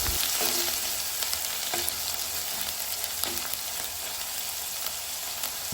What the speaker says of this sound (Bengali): পেঁয়াজটা আমরা নেড়ে চেড়ে ভালোভাবে কষিয়ে নেব।